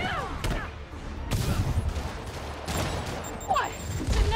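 Rockets fire repeatedly in Marvel's Spider-Man Remastered, a string of sharp blasts and booms spread across a few seconds with some faint voice underneath.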